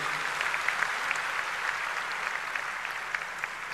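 An indoor audience at a political gathering claps steadily for a welcomed team, a dense, sustained wash of hands that stays even and fairly loud throughout with no one speaking over it.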